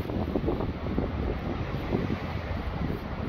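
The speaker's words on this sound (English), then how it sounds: "Can't chase them today. It's too windy." Strong wind buffets the microphone outdoors where ponies are being loaded. A constant, loud, rumbling roar of gusts runs through the whole stretch with no pauses.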